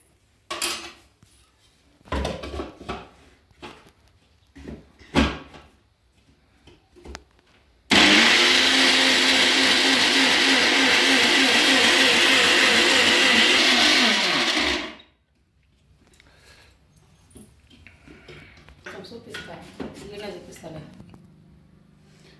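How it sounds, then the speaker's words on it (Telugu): A mixer grinder roars loudly for about seven seconds grinding spices for prawn chili powder, then cuts off abruptly. A person talks before and after, with light kitchen clatter. "మిక్సీకి వేద్దామండి"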